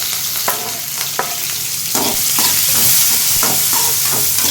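Onions and green chilies sauté with mustard seeds and chana dal in a new clay pot, a loud steady sizzle broken by a few sharp scraping stirs.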